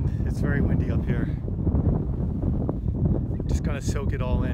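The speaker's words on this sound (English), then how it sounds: "Sorry about the wind. It's very windy up here." Strong wind buffets the microphone on a mountain summit in New Hampshire's Presidential Range, a continuous loud rushing roar that carries through the whole stretch while someone talks over it.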